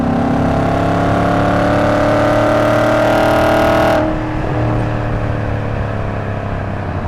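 An Audi RS4 B7 Avant with a naturally aspirated engine pulls hard in sixth gear, a loud, close, steadily rising drone from inside the car that eases abruptly as the throttle lifts partway through.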